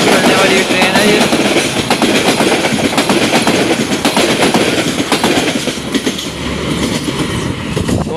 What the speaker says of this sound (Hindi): बहुत ही अच्छी रफ्तार से पास हुई है मुरादाबाद रेलवे स्टेशन से 34 डाउन पार्क बिजनेस एक्सप्रेस।